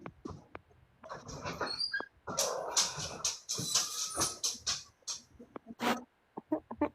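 A puppy whimpers and squeaks in short, high bursts when let out in the morning, close by and fairly quiet, mixed with scuffling and pattering movement sounds.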